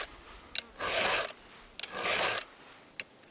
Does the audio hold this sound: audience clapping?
no